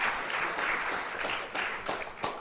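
Audience applause at a telecom conference session in Lisbon, a steady wash of clapping from a room of people with a few sharper individual claps standing out, fairly distant and even.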